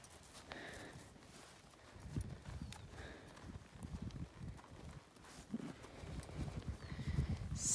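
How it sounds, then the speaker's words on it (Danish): A ridden horse on a novice trail pattern course, hooves clip-clopping in an irregular walking rhythm at moderate distance, faint soft thuds over a quiet background with occasional small noises. "Før Anna Katrine hun rider videre igen."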